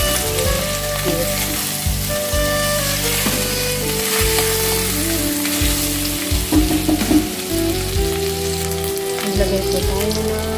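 Beef fries in a hot pan with a loud, continuous sizzle and crackle, broken by stirring clatter and spattering pops. No one talks.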